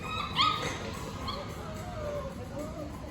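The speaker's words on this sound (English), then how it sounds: "Oh, them dogs going crazy." Pet shop puppies such as Pomeranians, Bichons and Shih Tzus bark, yip and whimper, with a sharp yelp early on and scattered cries after it, amid steady shop noise and talking.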